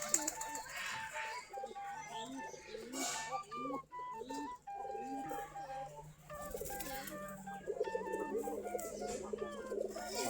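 Giribaz pigeons in a flock of about 40 to 45 pairs coo in soft repeated throaty phrases nearby, with other birds chirping over them and a low steady hum underneath.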